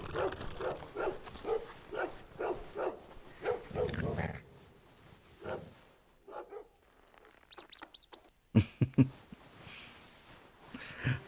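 A dog in the video game Christmas Stories: Nutcracker gives scattered barks and whimpers, with quiet gaps and a burst of sharper game sounds near the end.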